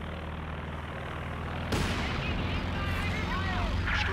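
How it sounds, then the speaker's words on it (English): Stuka dive bomber attacking in Company of Heroes 2, a sudden loud blast followed by a rising engine scream and rumbling explosions over steady battlefield noise. "Stuka is dive bombing."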